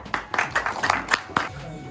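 At a political organization gathering, scattered hand claps burst out for a women's cell member, a short uneven round of applause that mixes with speaking voices.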